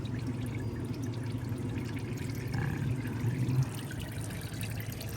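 Transmission fluid drains steadily from the pan of a 2017 Dodge Grand Caravan during a fluid and filter change, a continuous pouring trickle at moderate level, unbroken throughout with no voices.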